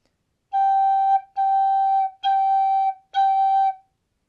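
A tin whistle sounds a clear high G four times, each tongued separately with short gaps between, bright and close, with no other sound.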